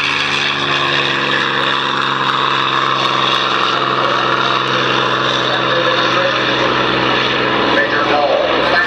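A loud, continuous engine drone with a steady rotor-like hum fills the air throughout, a close and unbroken roar from the Red Bull helicopter, a highly modified BO-105 CBS, flying a demonstration at the Oshkosh air show.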